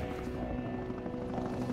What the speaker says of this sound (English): the Japanese Coast Guard were just coming over us, the helicopters